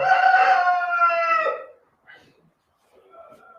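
A rooster crows loudly and close for about a second and a half with a long harmonic call, followed by fainter, more distant crowing from another rooster answering in the background.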